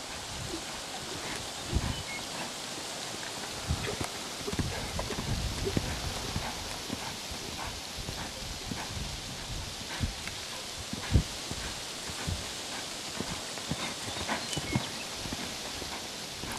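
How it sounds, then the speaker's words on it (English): Horse hooves clip-clop steadily as the horse lopes around in circles, a continuous rhythmic drumming of footfalls on soft ground with some rustling, moderately close and without talk. "Just lope that and lope it 50 times if you have to."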